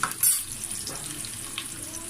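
Potato pieces and meal maker (soya chunks) frying in a pan, giving a brief, moderate sizzle with a few stirring scrapes near the start.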